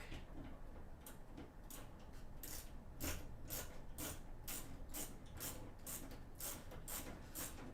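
Bolt fitted on the bottom of a MaiMai arcade machine during restoration, giving a steady run of sharp ratcheting clicks and metallic ticks, close and fairly loud, with no talking.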